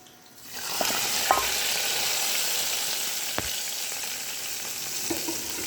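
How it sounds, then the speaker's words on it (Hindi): Steady, loud sizzling of cumin seeds frying in hot oil for a tempering, a continuous crackling hiss with a few sharper pops, no talking. "अब हम अपने ऑयल को गरम करके इसमें थोड़ा सा ज़ीरा ऐड करेंगे।"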